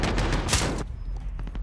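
Rapid gunfire in Call of Duty Modern Warfare: a loud dense burst of shots in the first half, then scattered lighter shots with a noisy background of battle.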